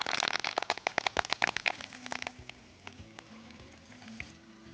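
Onions and curry leaves sizzle in a hot pan with bay leaves and cinnamon, dense crackling and spitting pops up close at first, then easing into a softer, fainter sizzle with a few scattered pops.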